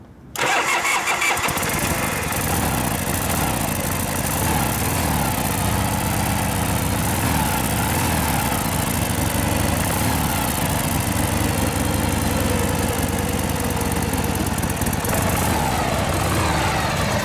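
A cold 1979 Harley-Davidson FXS Low Rider V-twin fires up on choke and keeps running, a loud, close, steady rumble that carries on with no talk over it.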